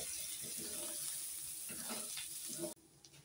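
Sliced onion and grated coconut roasting together in a pan for a Malvani-style egg curry give a steady, fairly loud sizzle with soft scraping and stirring, cutting off abruptly near the end to a quiet pause.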